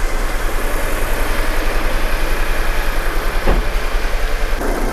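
An Audi A6 engine idling roughly with one of its four cylinders not firing: a steady, loud, low rumble with an uneven, pulsing beat, heard up close with no talking.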